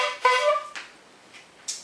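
A bulb-style horn on a stump fiddle, a percussion pole fitted with a pan, springs, block, bell and cowbell, gives a short, bright honk followed by a couple of fainter clanks and rattles, close up and alone.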